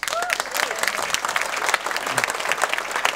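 A crowd at a late-night literature event in a library claps continuously and briskly, heard close and fairly loud, with a voice briefly audible under the clapping.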